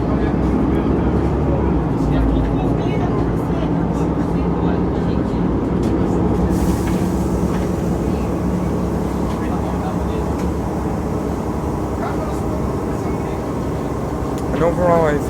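A Mercedes-Benz Conecto G articulated city bus in Ljubljana with a ZF automatic gearbox drives along, its engine and drivetrain droning steadily and loudly throughout, with a clear whine from the transmission.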